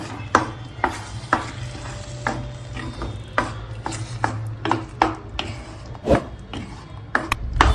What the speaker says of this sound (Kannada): ಇವಾಗ ಎಲ್ಲ ಮಿಕ್ಸ್ ಮಾಡಬೇಕು